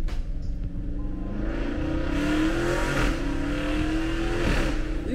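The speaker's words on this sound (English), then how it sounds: "You hear that? That's a Jeep." A loud Jeep engine revs on the road, a steady throaty roar that rises in pitch as it accelerates close by, with no talking over it.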